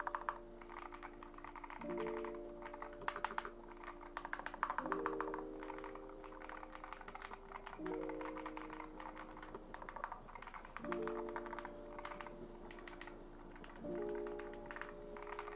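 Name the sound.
typing on magnetic switch keyboard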